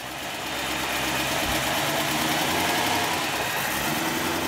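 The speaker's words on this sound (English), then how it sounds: "Two big jumpers should start this 4-liter V8 and see what happens. It's turning, it's firing." BMW E92 M3 with a 4-liter V8, jump-started after sitting three years with a suspected bad engine, catches and settles into a loud, steady rough idle close by with no talking.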